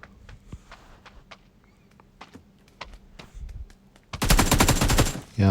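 M416 rifle fire in the mobile game PUBG New State: scattered single shots and footstep-like clicks give way to a loud, rapid automatic burst near the end.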